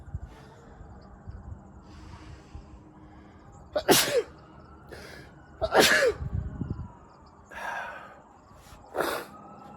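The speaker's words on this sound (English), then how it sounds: "I'm gonna sneeze." Several sharp sneezes burst out at irregular intervals, close and loud, with quieter breathy sounds between them, set off by dust from harvesting oats and wheat.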